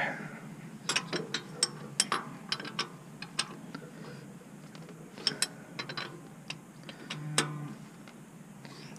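A wrench ratchets on a John Deere transmission in quick irregular clicking runs, fairly faint, against a steady background hum.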